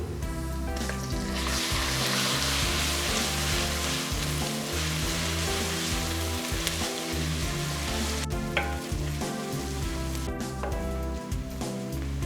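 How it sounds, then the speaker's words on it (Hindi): Ginger garlic paste frying with browned onions in hot oil sizzles loudly and continuously up close, with a few stirring scrapes and low backing music underneath and no voices. "लहसुन फ्राई हो गया,"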